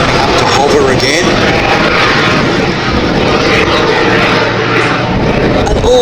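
A Jet Pitts aerobatic plane flown by Rich Goodwin, side slipping and climbing at an air festival, produces a loud, continuous engine roar that holds steady throughout, with faint crowd voices underneath.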